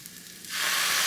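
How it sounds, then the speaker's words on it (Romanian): Soy sauce hits chicken and vegetable noodles in a hot wok and bursts into a loud, steady hissing sizzle that starts abruptly halfway through the short moment, with no voices. "amestecăm așa o leacă, mai punem o leacă din sos din soia și peste tăieței"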